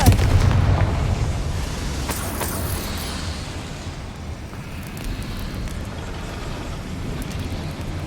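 Confringo fire spell blasting in Hogwarts Legacy: a loud booming burst at the start settles into a sustained rumbling, crackling roar that fades slightly and carries on steadily throughout, with no talk.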